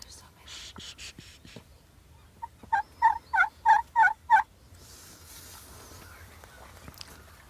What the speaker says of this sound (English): we want that gobbler, the one that's starting to come in